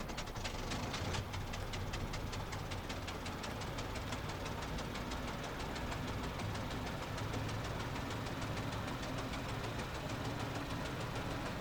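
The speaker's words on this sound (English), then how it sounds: "So we'll go ahead and run the starters now." Engine starters turning over on the Hughes Spruce Goose flying boat in Microsoft Flight Simulator, a dense, steady knocking rattle and drone that stays loud and unbroken from start to finish.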